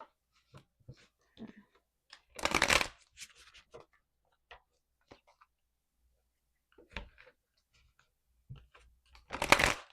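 Tarot cards shuffled by hand in quick riffling bursts, two strong bursts plus scattered soft taps and clicks, close and otherwise quiet, with faint breathy sounds between.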